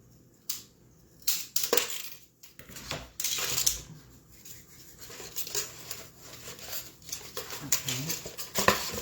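Scissors cut material off a fall craft project built on a book base, giving irregular close crunching and rustling snips under a quiet voice talking throughout.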